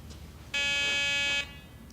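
A Garrett PD6500i walk-through metal detector sounds its alarm as a small ferrous test piece passes at waist height, giving one loud, steady electronic buzz of just under a second that starts and stops abruptly against quiet background.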